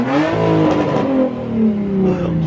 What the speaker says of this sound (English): the GTR is gonna rev